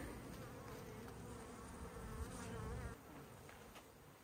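A steady swarm of honey bees from a swarm trap buzzes close and continuously, a dense droning hum with slight swells in loudness, no voices.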